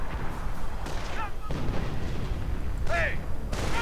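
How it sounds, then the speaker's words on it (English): Artillery strikes and mortar fire in a real-time strategy battle game: repeated muffled booms and bursts under busy battle noise, with whistling incoming rounds, while a commentator talks throughout. "artillery strike right on the Knights Cross"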